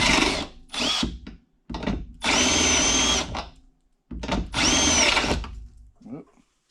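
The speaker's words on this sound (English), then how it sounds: "I got to drill out this brass bushing first." A power drill bores out an old, tight brass bushing on a truck under restoration, running in two long, loud grinding bursts with shorter starts and stops between them, close to the listener.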